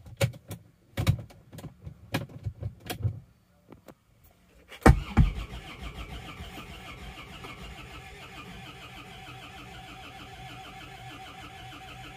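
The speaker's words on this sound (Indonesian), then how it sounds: "Ini akan kita starter. Start awal kemungkinan agak lama karena solar belum naik." An Isuzu Panther diesel engine cranks after a few sharp clicks and knocks, catches with a loud burst, then settles into a steady low idle rumble that continues to the end.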